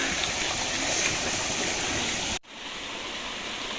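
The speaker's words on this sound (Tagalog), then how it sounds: "dito tayo ngayon sa may ilog" A river in the Philippine countryside flowing with a steady, dense rushing wash of water that is close and loud. It cuts off abruptly partway through, and a quieter water hiss follows.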